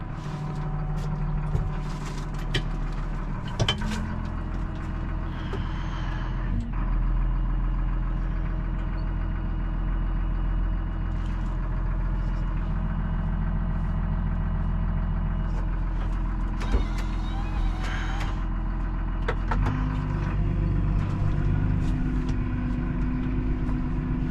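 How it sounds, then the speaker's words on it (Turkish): A cold tractor's diesel engine idles steadily with a rough, rhythmic knocking, running continuously up close for the whole stretch, with occasional clanks. "traktörümüz soğuk olduğundan dolayı biraz vuruyor traktöre"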